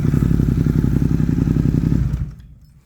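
A motorcycle fitted with an Arrow aftermarket exhaust and just over 1,400 miles runs loud and close with a steady, throbbing idle, then cuts out abruptly near the end, leaving quiet.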